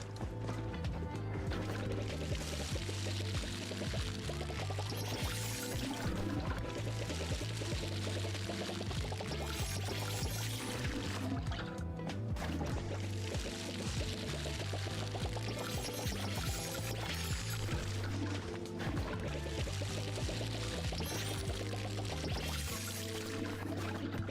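Water pouring steadily to fill up in the game Palia, a continuous liquid gush under layered background music with mechanical clicks, running unbroken for over twenty seconds.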